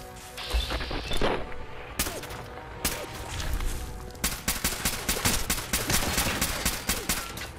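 Gunfire in the video game Fallout 4 on PS5: a rapid string of sharp shots and impacts, sporadic at first, then a dense rattling burst of fire, moderately loud, with no speech over it.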